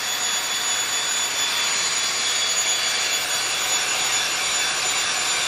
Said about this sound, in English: you'll hear the air compressor will be kicking on and on, making a little noise as we go